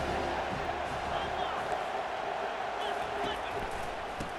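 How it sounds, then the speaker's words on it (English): Stadium crowd roar in EA Sports College Football 25 during a final possession, a steady, dense wash of cheering with faint whoops, continuous and fairly loud without break. "Crowd now trying to make a difference here in the final possession."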